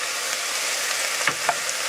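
A pot of cannellini bean soup with kale is stirred with a steady, close hiss of simmering, and a spoon knocks against the pot twice near the end; no one speaks.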